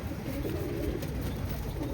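Pigeons coo softly and continuously in a loft with a pair among a group of seven, their low murmuring layered over a steady background hum.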